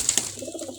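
Pigeons kept at a pigeon club cooing, a brief soft low coo after a couple of faint high clicks, close and quiet, lasting under a second.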